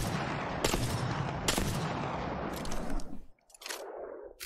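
Sniper rifle shots in Apex Legends training mode: a few loud, sharp cracks spaced about a second apart over steady game noise, then a brief quiet gap before a fainter shot.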